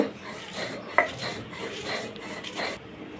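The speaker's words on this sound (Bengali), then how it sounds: "তো গাইস, মরিচটা বেটে ফেলছি।" Dried chili and salt ground together by hand, a rough rasping and rubbing that repeats in uneven strokes. There is one sharp knock near the start, and the scraping stays close with no talking.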